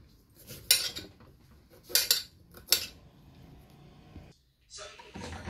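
A spoon scooping the pulp out of seasonal jocote fruit clinks against a dish in three sharp, close metallic knocks, followed by softer scraping and a final rattle, with quiet pauses in between.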